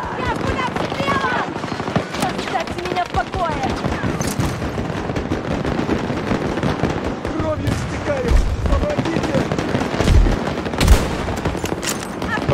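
Dense, continuous automatic gunfire and scattered explosions from a Battlefield 2042 match, loud and close, with rapid bursts overlapping throughout and a few heavier booms near the end.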